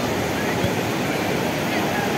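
Sea surf washing onto the shore at Achakar beach in Morocco, a steady broadband roar of breaking waves with wind noise across the microphone, continuous and fairly loud throughout.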